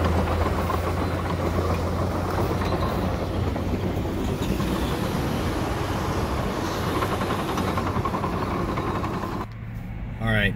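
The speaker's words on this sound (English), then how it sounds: "I'm driving down my trails, and I have the Deere 700J behind me" A John Deere 700J dozer driving along dirt trails toward a field, a loud, steady, close engine rumble with a continuous rattling churn that holds unbroken throughout before dipping briefly near the end.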